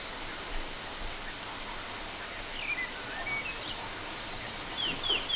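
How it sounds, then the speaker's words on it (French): Heavy rain pours steadily outdoors at a book-signing event and makes a dense, constant hiss, while a few faint bird chirps sound now and then over it. "c'est qu'il pleut des cordes"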